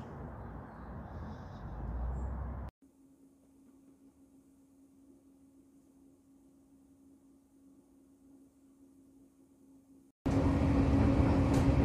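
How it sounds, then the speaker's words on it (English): A low, steady rumble with a constant hum inside a moving train carriage, framed by louder bursts of noise at the start and end. "And going to get on our train,"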